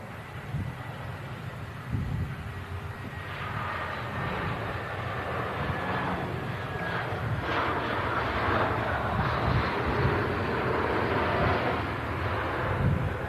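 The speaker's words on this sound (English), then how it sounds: "Nice landing from the EasyJet." An EasyJet airliner landing at Manchester: a broad roaring rumble of engines and rushing air that builds and stays loud and steady, with wind buffeting the microphone.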